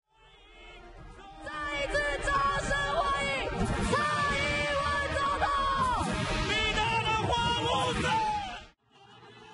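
A large crowd at a Taiwan election victory rally roars and cheers continuously, loud and dense with yells and whoops, before cutting off abruptly near the end.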